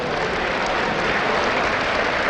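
A large crowd applauds at the StarCraft II WCS Season 2 Grand Finals at Gamescom, a dense, loud, continuous wash of clapping with no pauses.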